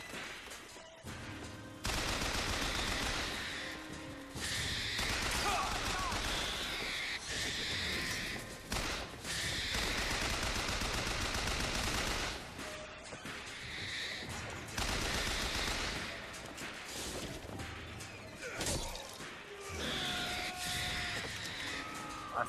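Rapid gunfire in the shooter game Bioshock Infinite, dense bursts of automatic fire and loud shots broken by brief pauses over about twenty seconds, with crashes and thuds mixed in.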